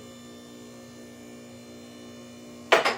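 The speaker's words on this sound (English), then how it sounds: "we're going to hear it hit the first lock in the first position" A steady electric motor hum from a Stratus scissor lift drones for a few seconds, then a sudden sharp metallic clack as it hits its first lock.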